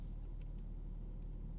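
A BMW G42 M240i drives steadily with a continuous low engine rumble and road noise, evenly loud throughout with no voices.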